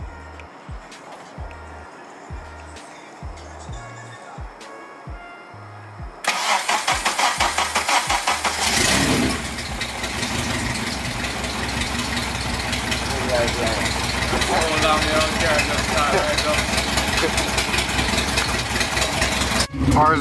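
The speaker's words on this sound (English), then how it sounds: "start the car so y'all can hear it" A K24-swapped hatchback cranks over with a few low starter pulses, then catches loudly and settles into a steady, close idle that runs on for several seconds, with a person talking under it.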